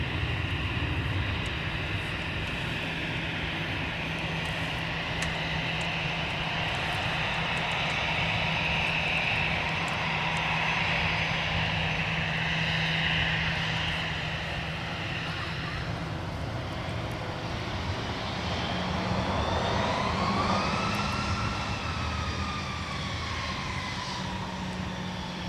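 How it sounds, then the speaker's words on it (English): An American Airlines Airbus A321-200 jet departing Minneapolis–St. Paul Airport for Charlotte, a steady distant engine roar that swells, then gives way to a rising whine as the jet passes. "There's our American A321-200 headed back out to Charlotte"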